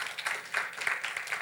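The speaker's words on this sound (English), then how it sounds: "Please give a huge round of applause to Hugo and Oz." An audience applauding at the close of a talk on AI, multimodality and deep learning, a short burst of fairly close, moderately loud uneven clapping with no clear voices over it.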